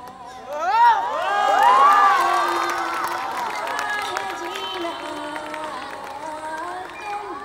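School audience at a musical night cheering, whooping and clapping after a song, a loud crowd swell that peaks early and then settles into ongoing chatter and shouts.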